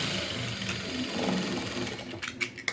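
A sewing machine stitches a garment, a steady close mechanical whirr running for a couple of seconds before a few sharper clicks as it stops.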